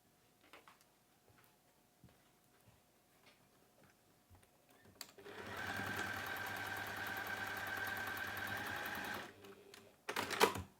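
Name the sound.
sewing machine stitching straight across a pouch lining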